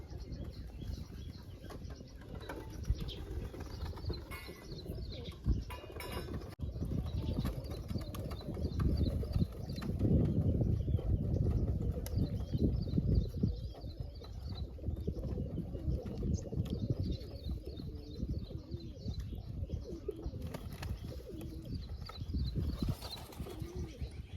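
Pigeons bathe in water, with bursts of wing flapping and splashing that swell in the middle, and soft coos and chirps faintly heard throughout, close by and without talk.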